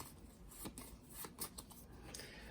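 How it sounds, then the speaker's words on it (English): Arkham Horror board game cards being shuffled by hand, a soft rapid riffling and rustling with a few sharper flicks, quiet and close with no voices. "we will shuffle all these cards up"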